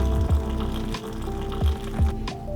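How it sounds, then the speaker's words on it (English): Hot water poured into a French press of steeping coffee for an iced cappuccino makes a continuous close filling gurgle over a few seconds, with small splashy bumps as the stream lands. "After letting that coffee steep for 2 minutes, I'm going to add in the rest of my water."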